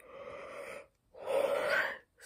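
A person gives a breathy, drawn-out yawn close to the microphone: a long gasping intake, a short pause, then a louder stretched exhale, with no words spoken.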